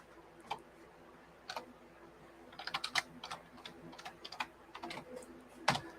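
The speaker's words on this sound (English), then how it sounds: "I'm going to type that in here." Quick clusters of keystrokes on a computer keyboard as a team name is entered, crisp close clicks in uneven bursts with short pauses, over a quiet room background.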